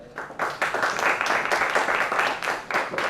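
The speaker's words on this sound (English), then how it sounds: "please join me in welcoming with a round of applause Mr. Neville Shah" Audience applause welcoming a speaker at a film festival master class in Mumbai, clapping that swells after a brief quiet start and holds in rhythmic pulses at moderate loudness.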